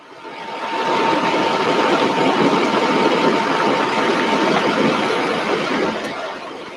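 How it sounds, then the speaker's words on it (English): A parked truck idles steadily near the main gate of a rocket launch site, a loud, dense, continuous engine rumble with a faint steady whine, fading in at the start and easing slightly at the end. "There is a truck behind us on its lunch break, so they will be shutting off that truck behind me"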